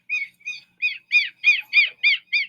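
Small bird on a farm in the Pampas giving a quick run of eight sharp, bright chirps in a steady rhythm, close and clear against silence.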